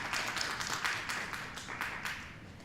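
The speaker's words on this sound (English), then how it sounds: "Board members, let's give her a round of applause" Board members at a meeting give a board member brief applause, a small group of light, quiet claps in a room that rises and then fades within a few seconds.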